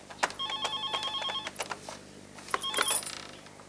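An old-style telephone bell rings indoors in two separate bursts of short, bright trilling rings, with a pause in between. No one speaks.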